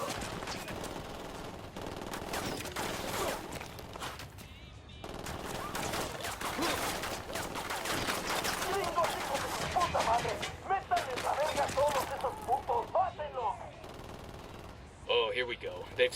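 Gunfire in the Ghost Recon Wildlands video game, with sustained rattling bursts and scattered shots that thicken into heavier volleys partway through, overlapping with talk and ambient game noise at moderate loudness.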